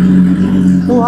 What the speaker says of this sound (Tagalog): At subukan na rin natin yung exhaust niya. Naka-SC Project Original Exhaust.